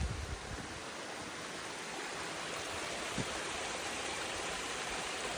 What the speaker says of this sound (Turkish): Küçük küçük şelaleler var. Her yerden şelale akıyor.